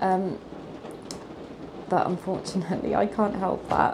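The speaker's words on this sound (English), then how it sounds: "I'm really sorry about the rain" Steady rain patters in the background while someone talks over it, the hiss continuing faintly under her voice.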